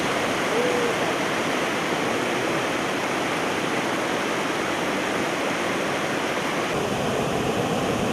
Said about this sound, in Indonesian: Air terjun Muara Karing memiliki seluncuran alami yang sering digunakan wisatawan untuk bermain air.